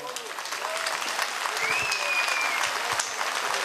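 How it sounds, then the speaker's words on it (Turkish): Sustained applause from an outdoor crowd for a folk musician at a wrestling festival in Erfelek, Sinop, steady and fairly loud, with a thin whistle rising briefly through it. "Alkışlarımız lütfen az geldi bana"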